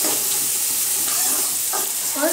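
Onions fry in a pan for fish gravy, a steady close sizzle with faint stirring scrapes running throughout, no voices over it.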